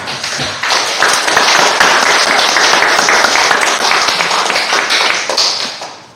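A large audience at a Yeosu care hospital gathering claps hard and continuously for several seconds, a dense crackle of many hands that fades at the end.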